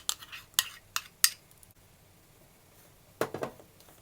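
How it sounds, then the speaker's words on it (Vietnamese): A utensil stirs a matcha mixture in a bowl, giving a few sharp, close clinks against the sides in quick succession, a pause, then a short final cluster of taps, with no talking. "Mình trộn cái matcha này để mình cho vào trong bột, trộn cho nó loãng ra trước"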